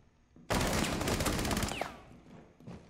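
Rapid automatic gunfire in a first-person shooter game, a loud dense burst of rounds lasting over a second before trailing off into scattered shots and faint game sounds.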